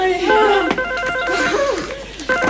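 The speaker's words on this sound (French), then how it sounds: "Ah, téléphone." A telephone rings in a French sitcom scene, its electronic warbling tones steady and close, with a voice speaking over part of it.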